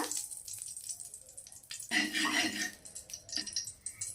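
Ghee melting and frying in a pan while making lauki (bottle gourd) kheer, a soft steady sizzle close by, with a louder crackling burst midway and small bubbling pops throughout.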